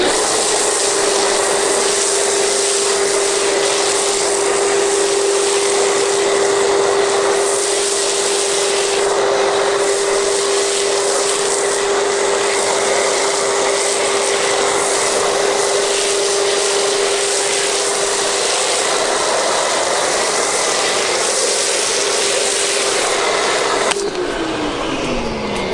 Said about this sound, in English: I'll just go ahead and foam the whole car